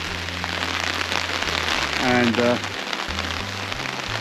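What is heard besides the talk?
rain falling on tent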